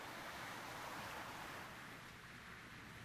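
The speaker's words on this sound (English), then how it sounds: "all that remained was the sound of the waves" Ocean waves in the game ChronoClock wash in a steady, soft, continuous surf, with a gentle swell and no voices.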